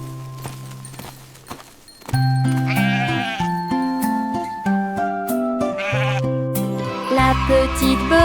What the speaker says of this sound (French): Ils sautaient tous les uns après les autres et bêlaient